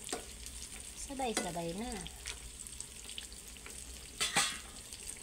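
Eggplant slices fry in a pan with a low, steady sizzle, joined by a short run of a voice early on and a brief louder crackle later, heard up close.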